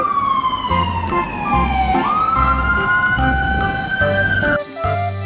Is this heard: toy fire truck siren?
yes